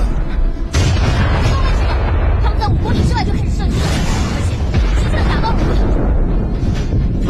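Artillery shells burst in a battle scene, a dense run of loud, heavy booms and rumbling blasts that fill the whole stretch, with shouting voices mixed in.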